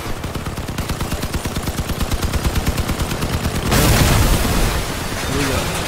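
Vehicle-mounted guns firing in the Crossout combat game, a rapid, steady automatic burst of closely spaced loud shots for several seconds, then a heavier booming blast that rumbles on afterward.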